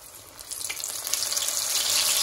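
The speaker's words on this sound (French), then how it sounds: "Je vais mettre mon huile qui a déjà bien chauffé pour faire ma friture." Pieces of giant squid with garlic drop into hot oil, setting off a close, bright hissing sizzle that grows louder and denser over a couple of seconds, with no talking.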